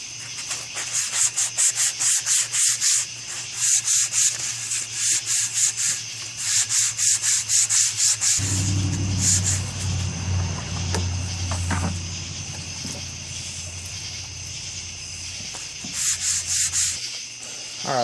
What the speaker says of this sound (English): now I'm going to be wet sanding with 220